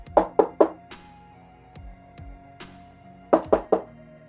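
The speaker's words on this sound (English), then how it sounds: "I'm just gonna knock and see if that makes him bark" Knocking on a door to rouse a dog: three sharp raps in a quick burst, a long quiet gap with a few faint thumps, then three more hard raps close by.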